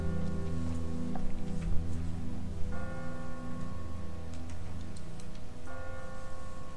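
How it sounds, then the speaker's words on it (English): A loud bell tolls repeatedly from a bell tower in a zombie-survival video game set in Savannah, its steady ringing tones sustained over a low background drone. "a loud bell going."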